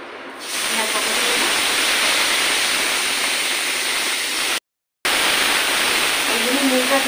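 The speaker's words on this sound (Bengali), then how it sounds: "পেঁয়াজ বাটা দিলে যে তেল ছিটকে ছিটকে আসে।" Hot oil hisses and spatters steadily in a pan after onion paste is added while cooking a potol masala, a loud continuous sizzling wash that drops out briefly near the end before resuming.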